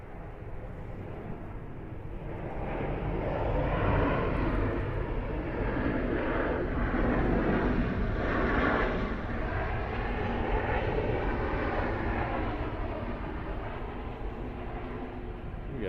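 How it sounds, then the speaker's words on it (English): An Air France airliner departs Atlanta airport on a distant runway, its jet roar building into a broad, steady rumble that swells midway and then holds at a moderate distance. "Air France going out on the other side."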